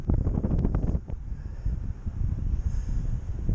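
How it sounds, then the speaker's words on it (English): Strong wind blasts a microphone while walking between beachfront motels, a loud, continuous buffeting roar that gusts hardest in the first second, then settles into steady rumbling noise. "It's windy going between the motels."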